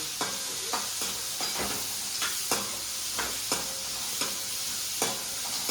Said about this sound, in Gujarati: હવે તેલમાં એને સાતડવા દેવાનું છે